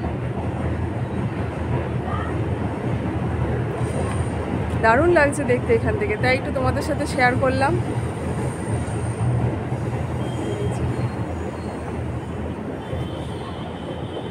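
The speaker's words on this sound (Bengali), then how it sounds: "ওই যে মেট্রো যাচ্ছে দেখা যাচ্ছে" A metro train rolls past, heard from a rooftop with a steady rumble throughout and a burst of wheel squeal in the middle, while people talk over it.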